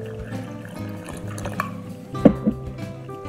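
A little water poured into a bowl of flour, yeast and oil for French bread dough, brief close gurgling and dripping with a couple of louder splashes near the end.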